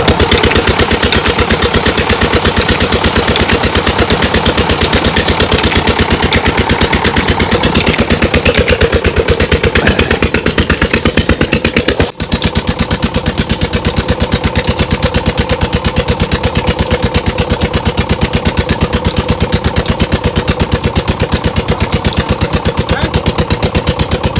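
A Petter diesel engine runs steadily after a hard cold start on a cold rural morning, with an even, loud, rapid clatter throughout and one brief dip partway through.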